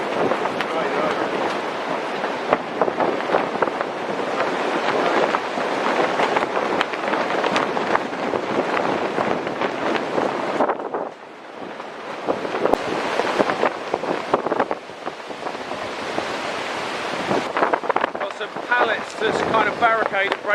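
Strong storm wind gusts roar across a woodland camp, blasting against the microphone as a loud, continuous rush that briefly eases before surging again.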